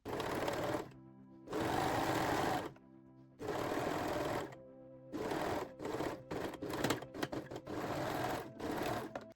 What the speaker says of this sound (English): Now we can sew the seam.